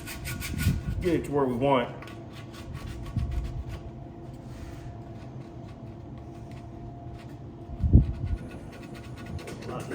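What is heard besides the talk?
sanding Bondo body filler on chopper tank with 80 grit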